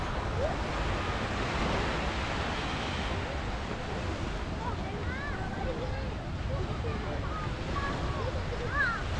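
Surf washing steadily onto Versova Beach in Mumbai, a continuous broadband roar with wind buffeting the microphone, while faint crowd chatter and occasional distant voices drift over the shore.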